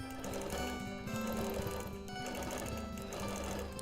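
Sewing machine stitching steadily and rapidly while freehand quilting around a star with charcoal thread, a close mechanical whir with a fast regular chatter and brief slowdowns.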